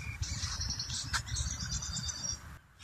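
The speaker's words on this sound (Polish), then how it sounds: "Słyszycie, jak oni ptaszki śpiewają?" Several birds chirp and trill in a steady, high-pitched chorus in a forest over a low rumble of background noise, with no voices.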